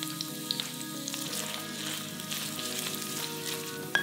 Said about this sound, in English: Heat some oil and sauté the onion and lemongrass for a few minutes.